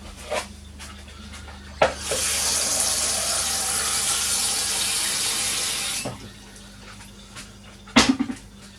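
Tap water gushes steadily for several seconds into a pan of cut potatoes in a home kitchen, framed by clinks and knocks of handling at the start and end.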